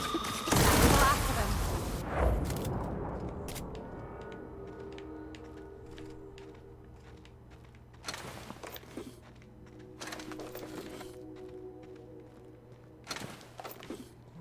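A gun fires in The Outer Worlds with a loud opening burst of shots, then trails into quieter scattered reports and clattering action that recurs several times.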